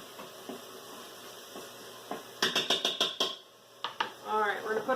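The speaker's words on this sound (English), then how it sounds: "So let me give this a stir." A spoon stirring pureed cauliflower soup with cheese in an Instant Pot, a quick run of clinking scrapes against the metal pot, close and moderately loud, with a person talking around it.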